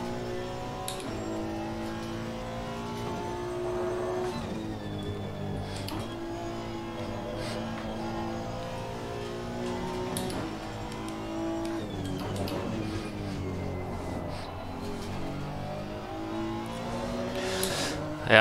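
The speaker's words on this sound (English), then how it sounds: "this is a car that needs lots of input to go fast" A race car engine in a racing game revs continuously, its pitch climbing and dropping again and again through gear changes, loud and close for the whole stretch, with a brief sharp burst at the very end.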